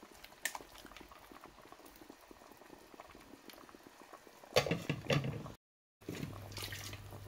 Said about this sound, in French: Je referme ma casserole et je laisse la sauce continuer à cuire.